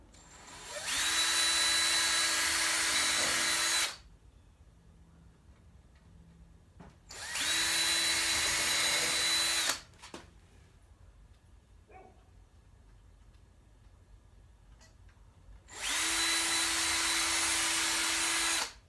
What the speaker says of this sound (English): put the screws in, remove the clamps, do another hole and another hole over there, and then put those screws in